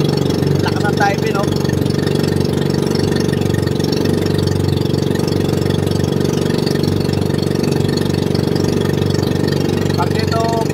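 A boat engine runs loud and continuous in strong tide, a steady mid-low drone with knocking texture throughout, while people talk over it.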